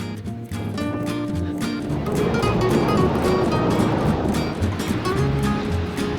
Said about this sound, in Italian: Ecco l'oceano.